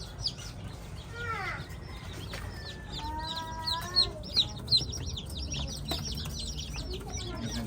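Newly hatched chicks and chickens fill the space with cheeping and clucking, several high peeps and short calls overlapping at close range, a few louder clucks standing out near the end.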